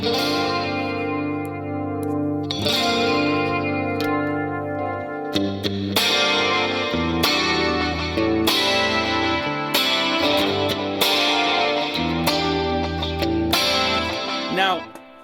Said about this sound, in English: those delays are a little bit annoying, right?